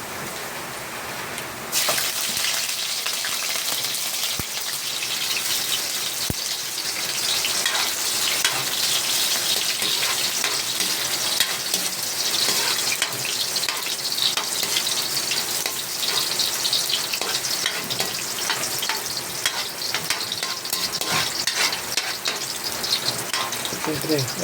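Chicken and garlic fry in a pan. After a brief quieter start, a loud, dense sizzle rises and holds steady and close, crackling like heavy rain on a surface.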